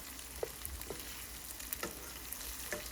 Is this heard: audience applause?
no